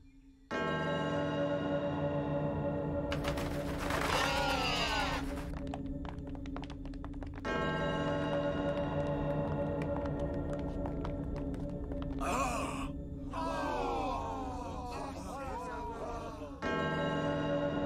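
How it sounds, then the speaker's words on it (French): Loud, sustained video game bell tones ringing with long resonant harmonics, interrupted by sharp clatters and brief bursts of other sounds, then the bell resumes. "Oh, le son d'une cloche."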